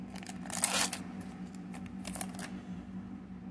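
Pokemon XY Breakpoint booster pack torn open by hand, a short burst of crinkly foil tearing near the start followed by quieter rustling and card handling, close up with no talking.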